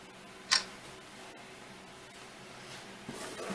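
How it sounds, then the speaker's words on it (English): A single quick shutter click from an LG G4 phone camera taking close-up shots, sharp and near, followed by faint steady room hiss. "that is just a fast shutter"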